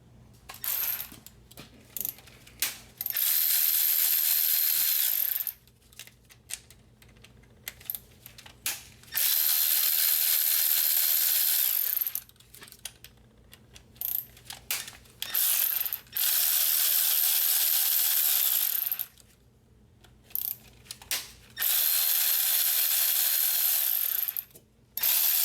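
Ratchet wrench loosening the 8mm bolts around the transmission oil pan of a Chrysler Town and Country, heard as repeated bursts of rapid, loud clicking separated by short pauses, with no talking.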